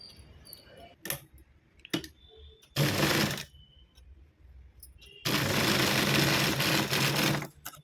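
Sewing machine stitching a hanging latkan tassel for a blouse, heard as two short bursts of running stitches, the second longer, with small clicks between them and no talk.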